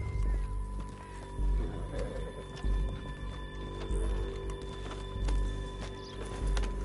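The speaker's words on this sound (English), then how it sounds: "Back on your horse. Let's get after them." Video game horse riding: steady clip-clop of hooves at a running pace, with a continuous tonal music or ambient bed underneath and occasional whinny-like sounds.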